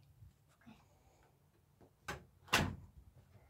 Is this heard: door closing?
yes